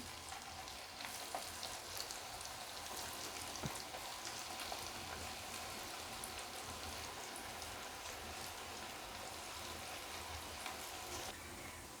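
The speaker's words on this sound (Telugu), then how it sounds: "ఆయిల్ హీట్ అయ్యాక కొద్ది కొద్దిగా వేసుకున్నామండి" Soya chunk (meal maker) pakoda batter deep-frying in hot oil, a steady, dense sizzle and crackle with no pause throughout and no talking.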